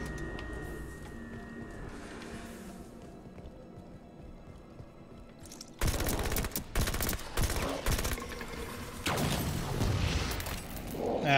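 Gunfire aimed at a hunter in the video game Halo 5: after a quieter stretch of ambient game sound, a rapid, loud burst of repeated shots breaks out and keeps going in volleys to the end.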